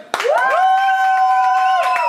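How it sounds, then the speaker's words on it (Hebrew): Guests at a birthday party clap for Orel with scattered hand claps under a sustained, sung-out group cheer that holds steady, close and loud, before trailing off. "חבר'ה, כפיים לאורל"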